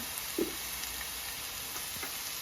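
Sliced onions hit hot oil in a pan for a Kerala-style tomato and onion theeyal, giving a steady, soft sizzling hiss with a few faint clicks, and no talking.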